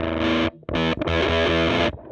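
Electric guitar runs through a Jext Telez Unidrive overdrive pedal, giving short, loud, smooth driven chords and notes with a brief gap between phrases. It is played alone, with no speech.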